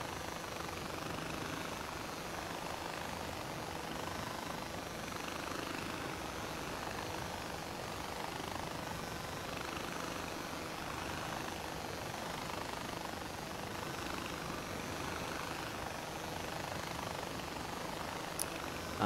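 A helicopter in the video game Far Cry 4 flies steadily throughout, a continuous broadband rotor and engine drone at a constant level with no talk over it.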